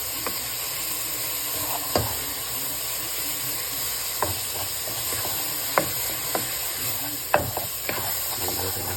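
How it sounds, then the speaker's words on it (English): A spoon stirs pureed vegetables in a pot of Cajun étouffée over a steady cooking hiss, with occasional sharp scrapes and knocks against the pot. "take the pureed vegetables and put those all in here. And, mix them all up."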